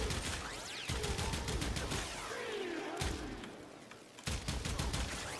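Kuva Kohm shotgun blasts in Warframe gameplay fire in rapid bursts of sharp cracks, with brief pauses between volleys and a continuous rattling spray of shots, loud and close.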